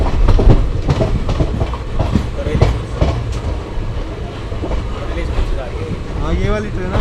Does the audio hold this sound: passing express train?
yes